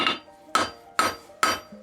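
Four sharp metal hammer strikes on a punch, evenly spaced about half a second apart, marking along a seam on a vise bolster; close and clear with no talking.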